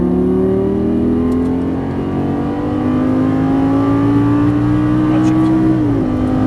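A Lamborghini Gallardo LP550-2 on a racing circuit accelerates under hard throttle, its engine note climbing steadily, loud and close, then dipping briefly at a gear change before pulling on.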